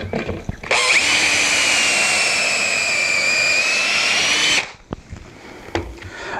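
A power drill bores screw holes into a wooden shelf for a barrel stave easel, whining loud and steady for about four seconds before stopping, with a few knocks and clicks around it.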